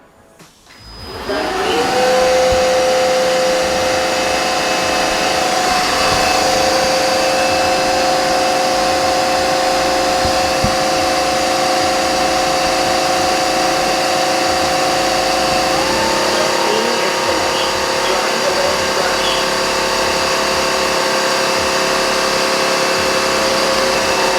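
A eufy WetVac W31 cordless wet dry vacuum runs its self-cleaning cycle, a loud steady motor whir with a high whining tone that shifts pitch partway through, continuous for over twenty seconds.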